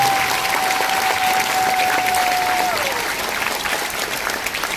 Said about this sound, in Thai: ขอเสียงปรบมือเป็นกำลังใจให้ กับพี่น้องชาวไทยเราที่ตามแนวชายแดนด้วยครับ